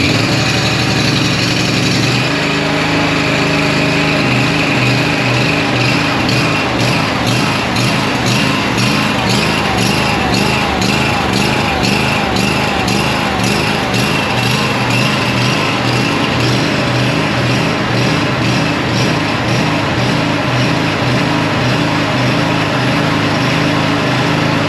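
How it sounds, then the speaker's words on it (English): A small engine with a dirty carburetor, likely a lawn mower, starts up and runs steadily at a loud, close idle with slight throttle changes, its rough rhythmic putter continuing throughout with no talking. "Let me fire this thing up for you and show you exactly how it's running right now with a dirty carburetor."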